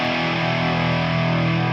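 One big, sustained distorted electric guitar chord from a cover, thick and loud with an octave layered underneath, holding steady throughout without a break.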